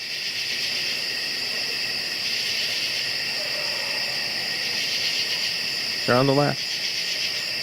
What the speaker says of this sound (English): So I head down the hill to record the summer crickets and katydids